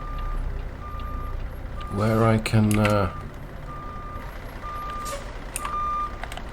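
A simulated truck with a Caterpillar 3406E 550hp engine in American Truck Simulator gives a regular, repeating reversing beep over engine hum, while someone speaks briefly partway through.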